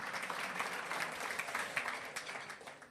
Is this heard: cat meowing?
no